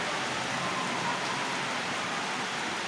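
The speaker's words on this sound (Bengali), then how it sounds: "আজকে অনেক সুন্দর একটা ওয়েদার, মেঘলা এবং বৃষ্টি।" Steady rain on a cloudy day, a dense even hiss of falling drops with no pauses, moderately loud and continuous throughout, with no voices.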